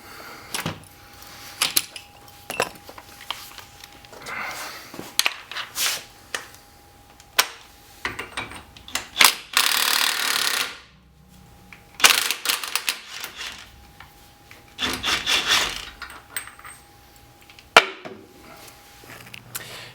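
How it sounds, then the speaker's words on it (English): Sharp metallic clicks, clanks and scraping bursts come from loosening car axle nuts with an axle nut remover tool during a Kia clutch job, irregular and close, with brief pauses between efforts. "I'm going to get my axle nut remover right now and start getting the nuts removed"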